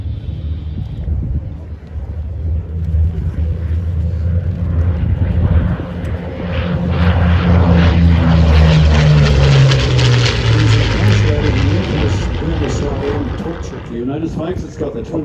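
De Havilland Mosquito warbird with twin Merlin V12 engines droning loudly past at an airshow in Wanaka, the pitch sliding down as it passes, with wind buffeting the microphone.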